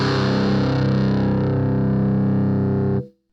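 Electric guitar chugging through a Sondery Metal distortion pedal with the gain only about a quarter up, giving dense, loud palm-muted chords in a steady, heavy run that cuts off abruptly near the end.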